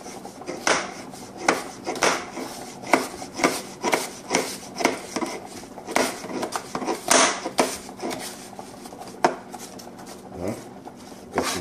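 A knife dicing apples on a wooden cutting board, a steady run of quick, close chopping taps repeating rhythmically throughout.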